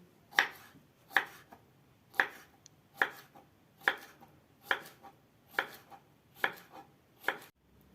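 Steady knife chopping peppers for mixed pickles on a cutting board, about ten crisp sharp strikes at an even rhythm, close and clear with no talking.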